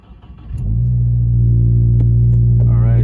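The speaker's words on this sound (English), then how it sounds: "hopefully you're hearing this, is the ETS Axle-Back exhaust. So an aftermarket Axle-Back exhaust." A 2022 Subaru WRX engine rumbles to life through an aftermarket ETS axle-back exhaust, settling into a loud, steady deep idle drone close by, with a faint rising note near the end.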